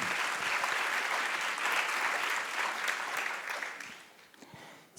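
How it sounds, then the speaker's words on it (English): Applause from a panel-discussion audience, a dense steady clapping that holds for about four seconds and then tapers off quietly. "Please give them a round of applause before we begin."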